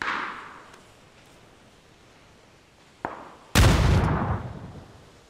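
A grenade goes off in the battle-royale game PUBG: a sharp pop, then half a second later a loud, booming blast that rumbles and slowly fades, with no talk over it.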